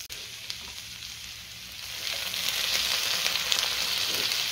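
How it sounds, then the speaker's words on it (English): Prawns sizzle loudly on a very hot wooden sizzler tray in a restaurant kitchen, a dense steady hiss that swells louder partway through, heard up close without speech. "into your wooden sizzler tray, on with the prawns"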